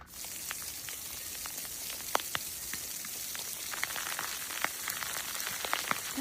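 Sleet falling during a severe winter storm, a dense crackling patter of icy pellets ticking on surfaces, with scattered sharper clicks standing out over the steady hiss.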